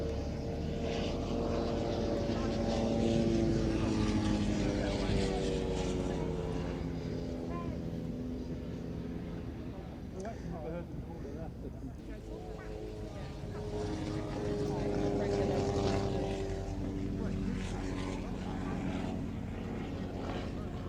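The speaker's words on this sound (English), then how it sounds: "the Nieuport 23, which we see represented by the Swiss aeroplane" A Nieuport 23 biplane, a Swiss-flown First World War fighter, flies past at a summer air show with a steady propeller engine drone. The drone swells and fades over about twenty seconds while a commentator talks over it.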